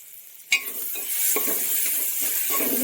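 Onions sauté in a pan, their water cooked off, giving a soft steady sizzle with a spoon stirring and scraping against the metal, starting with one sharp clink.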